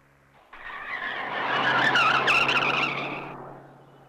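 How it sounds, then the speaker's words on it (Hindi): A speeding car skids with a long, loud tire squeal and engine roar that swells and then fades over several seconds, with no talking over it. "तो फिर ये गाड़ी इतनी तेज क्यों चला रहा था"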